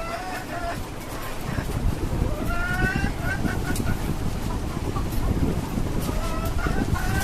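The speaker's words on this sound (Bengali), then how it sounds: "পাঁচতলা বাড়ির ছাদের উপরে এভাবে খাঁচা বিশিষ্ট একটি মুরগির খামার করেছি" Native chickens cluck and call from a caged coop on the roof of a five-storey building, repeated clucks rising over steady wind and background noise, with a person talking faintly now and then.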